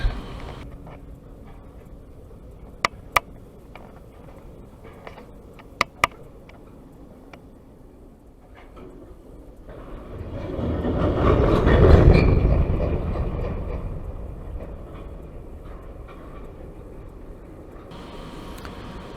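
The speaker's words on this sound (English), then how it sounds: "that sound is actually wheel flange against the rail when it's going slow." A CSX freight train creeping slowly through a curve on the ANB line at Albany Avenue, Waycross, its wheel flanges grinding against the rail in a low rumbling swell that builds and fades mid-clip, with a few sharp ticks earlier.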